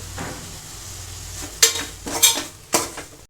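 Prawns and sorrel leaves fry in a pan with a low steady sizzle, broken by three sharp metallic clinks and scrapes of a utensil against the pan near the end; no voices.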